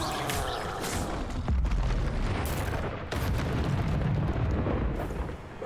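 Confringo fire spell explosions in Hogwarts Legacy, a dense roaring series of booms and blasts with a heavy rumbling low end and short gaps between impacts.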